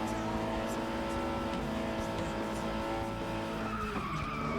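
A race car in the FlatOut Ultimate Carnage video game brakes hard and skids, tires squealing over a steady engine roar, with another car's engine whining nearby as the skid grows toward the end.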